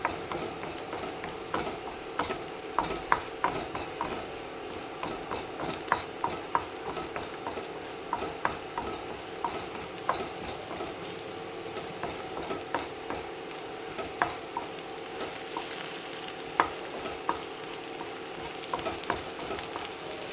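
Egg thoran with sprouted green gram frying and being stirred in a pan: a steady sizzle runs throughout with frequent scraping and tapping strokes of the stirring spoon, close and continuous.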